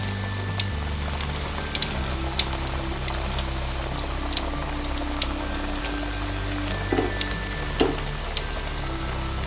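Ragi vadai, Kongu Nadu style, sizzling and bubbling steadily in hot oil, with a dense crackle like rain that is close and continuous throughout, plus a few faint pops and clinks.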